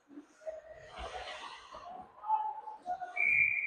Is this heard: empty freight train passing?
no